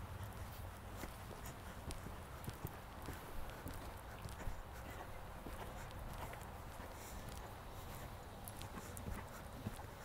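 Hooves of a young horse in training thud and clip-clop steadily across a riding arena floor, sounding close and repeating as a continuous gait rhythm.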